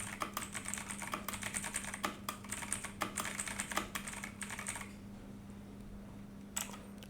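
Computer keyboard typing in rapid, steady bursts of close key clicks for about five seconds, then stopping, with a faint constant hum underneath and a single click near the end.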